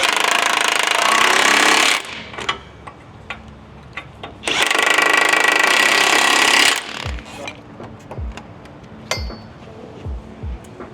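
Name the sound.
impact wrench running on L5P Duramax truck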